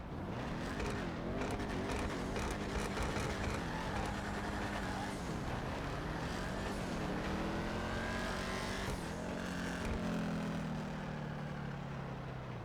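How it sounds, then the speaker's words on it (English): A Vapid Firebolt ASP muscle car engine in GTA Online revs and roars repeatedly, rising and falling in pitch, loud and close with a rough, throaty growl. "sounds like it has the exact same engine sound as the Vapid Dominator ASP"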